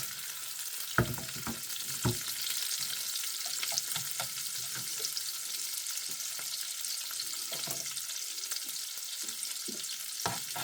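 Asparagus browning in a pan, a soft, steady hiss of frying with a few sharp knocks and light stirring clicks, quiet and close, no talking.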